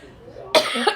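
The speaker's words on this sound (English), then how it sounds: "Have a cough." A single short cough from an adult indoors, abrupt and fairly close, following a quiet moment.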